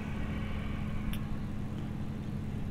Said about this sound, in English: that was a truck passing by outside the dorm